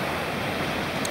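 Ocean waves breaking at Long Reef beach in Sydney, a steady broadband wash of surf that fills the clip at a constant, fairly loud level with no pauses and no voices.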